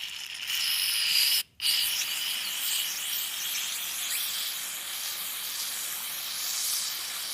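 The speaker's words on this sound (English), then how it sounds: "you can take your carb cleaner and fill this side up" Carb cleaner sprays from an aerosol can into an EGR valve removed from a 1998–2005 Mercedes W163 ML350/ML500, a soft continuous hissing spray with one brief pause, fairly quiet and close.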